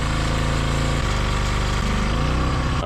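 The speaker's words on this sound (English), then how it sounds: "use the drill to spin the oil pump and really get some oil pumping through this thing" A drill spinning the oil pump of a Dodge Charger 2.2 engine runs continuously and loudly, a steady mechanical whine with a slight drop in pitch partway through, no voices.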